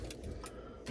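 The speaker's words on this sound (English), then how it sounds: "There are two sets of keys." Set of motorhome keys jangling near a 2004 Hymer Camp C546 2.8 JTD, a few quick, bright metallic chinks close up over a low background hum, with no speech.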